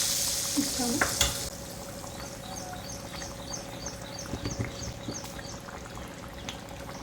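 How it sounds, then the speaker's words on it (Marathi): Soft sizzling and a spoon stirring baby potatoes in masala in a pan, with a couple of louder scrapes early on, then a quiet, steady fry. "आलू आधी मसाल्यामध्ये परतून घेऊ"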